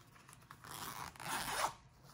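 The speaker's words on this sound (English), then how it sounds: "as you can see, there's a zipper." A zipper on the back pocket of a QUANFUN running belt is pulled open in one continuous rasping stroke, close and fairly quiet, rising in intensity toward the end.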